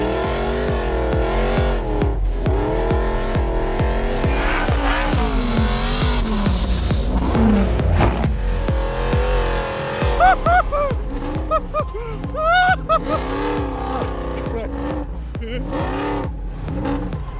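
A 1000hp Ford Bronco accelerates hard, its engine revving in rising and falling sweeps with tires squealing through turns, loud and close, while people talk over it.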